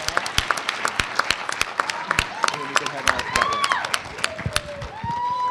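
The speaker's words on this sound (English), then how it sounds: "one more round of applause, guys." Audience applause at a school talent show, with scattered claps and some cheering from a crowd in a hall, moderately loud, mixed with voices and a few whistle-like tones.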